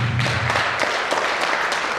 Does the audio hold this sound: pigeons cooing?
no